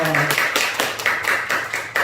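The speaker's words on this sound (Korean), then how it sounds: "하나님께 영광의 박수 올려드립시다." A church congregation at a Sunday service claps in a steady, rhythmic unison beat, about four claps per second, filling the room loudly with faint voices underneath.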